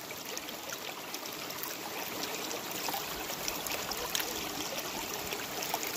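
Water swirls and trickles steadily in a gold pan while placer gravel is panned outdoors, a soft continuous wash with faint splashes throughout.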